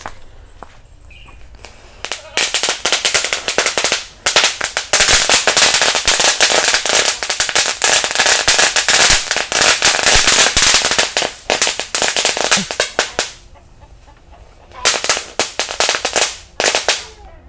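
Butterfly firecrackers set off in the ground during Ramadan 2024 crackle in a loud, dense, continuous barrage of rapid pops and bangs for over ten seconds, with brief gaps before a final sputtering flurry.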